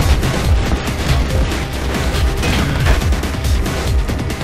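Rapid bursts of gunfire from the video game Mirror's Edge, dense and continuous with booming low thuds, loud throughout with no talking.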